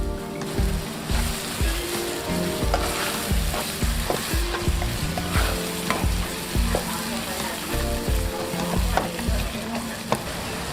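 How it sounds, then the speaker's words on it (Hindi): Garlic and onion frying in a pan for aloo keema, a steady close sizzle broken by repeated scraping and stirring strokes, with no talking. "लहसुन और प्याज को आपने अच्छी तरह से भून लेना है 2 से 3 मिनट के लिए।"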